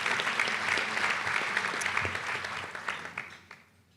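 Applause from an audience at a bar association awards event, a dense round of clapping that holds steady, then thins into a few scattered claps and fades away.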